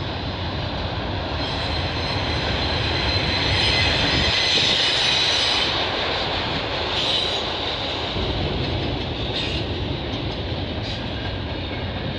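A CP/CN freight train with box cars rumbles steadily past at close range in Milton, Ontario, a continuous heavy roar of rolling cars with occasional high squeals from the wheels.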